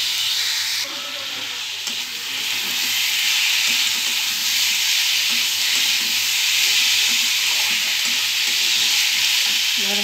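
Food frying in a pan on the stove, with a loud, steady sizzle and hiss throughout and faint stirring clatter underneath.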